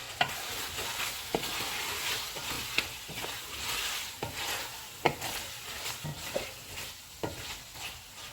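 Bhuna gosht with green coriander and green chillies being stirred in a hot pan, a soft continuous sizzle broken by repeated scraping clicks of the spoon against the pan at irregular intervals, close and unvoiced.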